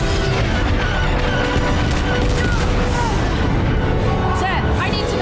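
Blaster fire crackles through a Star Wars Rebels space battle, a dense, loud barrage of booming shots and zaps layered under a continuous roar, with voices talking over the din.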